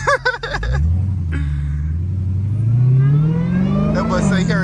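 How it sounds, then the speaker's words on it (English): A Dodge Hellcat's supercharged engine drones low and steady, its whine rising in pitch as it accelerates on a late-night city drive, with people talking over it at the start and end. "We gotta listen to that Hell Kitty whine."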